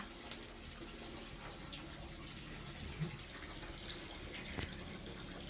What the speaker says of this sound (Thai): เราก็ต้องล้างอีกรอบหนึ่งนะคะ